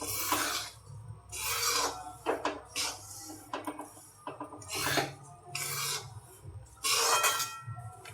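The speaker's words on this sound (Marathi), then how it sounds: "सालीसकटच वेलदोड्याची कूट बारीक करते" Cardamom pods, peel still on, being ground into a fine powder for karanji filling, giving repeated rough grinding and rasping bursts with scraping between strokes, close and fairly loud, with no talking.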